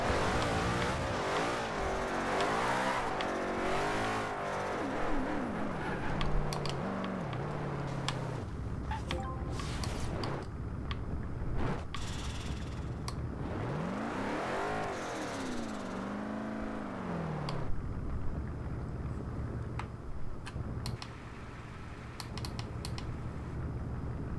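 A 2005 Ford GT engine, upgraded to near 900 horsepower, idles in the video game Forza Horizon 2 with a deep, rough rumble, punctuated by clicking and tapping noises over a steady background hum.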